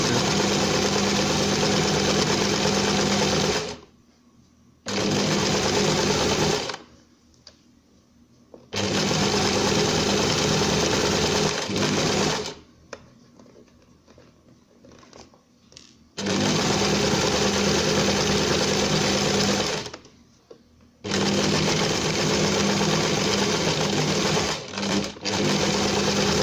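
A sewing machine stitches a kitchen towel made from furniture fabric, running in loud, steady whirring bursts that stop and restart several times, close up and with no talking.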